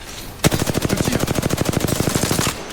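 Rapid automatic gunfire in the video game Apex Legends, a sustained burst of evenly spaced close shots lasting about two seconds before stopping abruptly.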